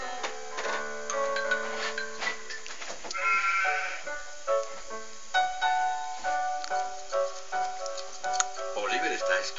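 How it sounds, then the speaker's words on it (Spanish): A sheep bleats several times in wavering, nasal cries, loud and close, alternating with a voice talking and some faint ticking. "Una oveja."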